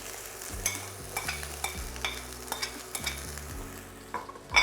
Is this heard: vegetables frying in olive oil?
yes